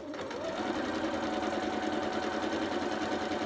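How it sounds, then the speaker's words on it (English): A sewing machine runs a row of stitches along the top edge of a fabric bunting flag, a fast even mechanical whir with rapid needle ticks starting after a short pause and continuing steadily, close and alone. "I'm just going to take a row of stitches along this top edge here, and that will just hold the flag closed and flat."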